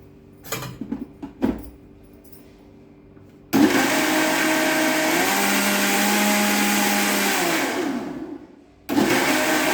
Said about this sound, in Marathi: आता हे सर्व मिश्रण मिक्सरमध्ये बारीक करून घेऊया